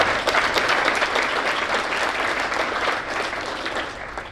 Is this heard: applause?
yes